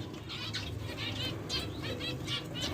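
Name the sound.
home-bred pet birds of mixed mutations in a cage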